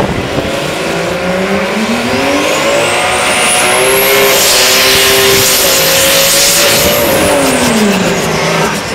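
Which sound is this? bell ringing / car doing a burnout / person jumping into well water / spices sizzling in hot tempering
car doing a burnout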